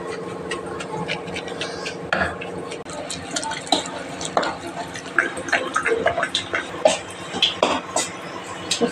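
Manathakkali greens being mashed in a pot in a small home kitchen, with a steady run of soft wet thuds and scraping clicks close by, growing busier toward the end.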